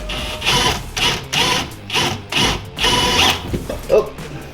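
Tool work on a bolt under a car's rear differential, with a jack holding the weight, comes through as a loud, close, repeated mechanical whirring in about six even bursts, each lasting roughly half a second.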